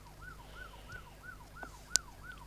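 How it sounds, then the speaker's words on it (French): A French police car's two-tone siren wails in a steady repeating cycle, fairly faint and distant, with a brief sharp click or knock near the end. "Alors, je vais enlever les sirènes."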